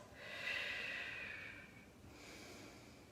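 Slow, deep breathing during a Pilates stretch: one long airy exhale followed by a fainter second breath, soft and close with no talking.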